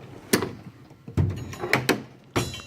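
Snap-on toolbox drawers slide open and shut, several short sharp metallic clunks spaced irregularly, close and fairly loud with no talk.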